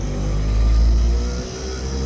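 An auto rickshaw pulls away in Chiplun with a steady, loud low engine drone that swells and then eases slightly over two seconds, with no voices.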